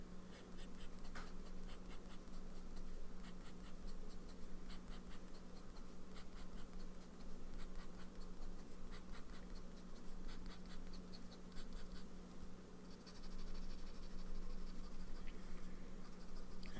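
A fountain pen with a medium nib writes on paper in a quiet room, producing faint, continuous scratchy strokes with a soft scraping texture over a low background hum.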